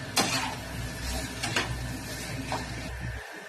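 Mutton being stirred in a cooking pot, with scraping clinks of a spoon against metal coming through a few distinct strokes over a steady low sizzle, close and fairly quiet.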